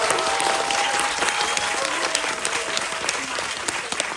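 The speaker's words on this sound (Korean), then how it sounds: "여러분 이렇게 응원의 박수 부탁드립니다." A cinema audience at a stage greeting for the film Happy End (2024) claps warmly, producing a full, continuous burst of applause with scattered crisp claps, while a faint tonal hum runs beneath.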